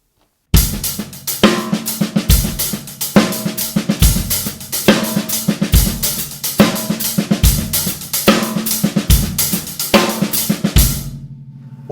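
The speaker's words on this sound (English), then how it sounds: "double paradiddle sounds like this here now, if I play it here." A double paradiddle groove is played on a full drum kit by Dom Famularo, with loud, busy strokes moving between snare, toms and cymbals in a steady driving pattern. It runs for about eleven seconds, close and powerful, with no talking.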